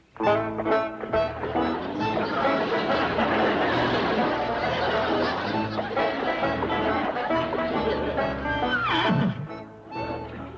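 A horse whinnies and neighs loudly and repeatedly, close by, with short snorts and chuckling sounds mixed in, on a classic western TV sitcom set.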